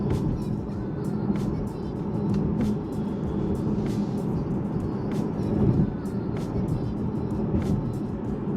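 A 2023 Volkswagen Arteon R-Line driving in normal mode gives a steady low road and engine rumble from inside the cabin, with faint intermittent ticks and no talking.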